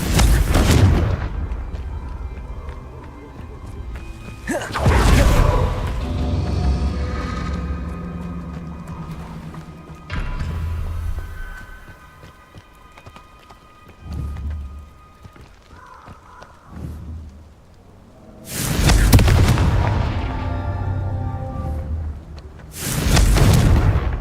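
Confringo fire spells bursting in Hogwarts Legacy while roaming the castle grounds, giving several loud explosive booms in separate bursts with quieter rumbling and footsteps in between.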